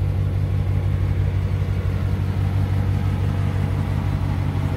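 A 2015 Dodge Charger R/T with the mid muffler and resonator deleted idles with a steady, deep, loud exhaust rumble that holds level throughout.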